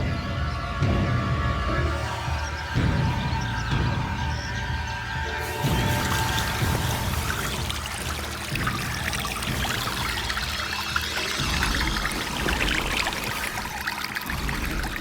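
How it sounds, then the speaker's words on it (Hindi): Water is pumped out of a tank through a pipe, making a steady pouring, gushing rush that grows fuller partway through and runs continuously beneath sustained background music tones. "पाइप टैंक के अंदर डाल दिया है ना? हाँ ठीक है, पानी खाली करना शुरू कर दो।"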